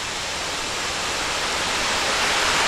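Water pours steadily over a small dam on Indiantown Run, a loud, continuous broadband rush close by with no other sounds.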